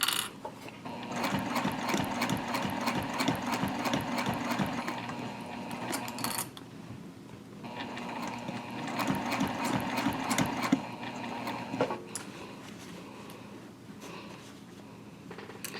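Sewing machine stitching a tote bag gusset: a close, steady mechanical rattle of gears and clicking runs on for long stretches, broken by brief pauses.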